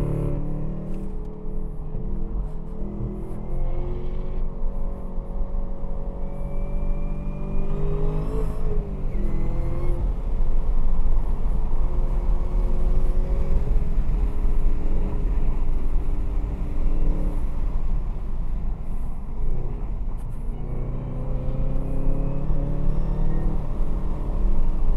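A Chevrolet Camaro ZL1 1LE lapping Buttonwillow Raceway, its engine droning loudly and steadily with rising and falling pitch through gear changes, close and continuous for the whole stretch with no talk over it.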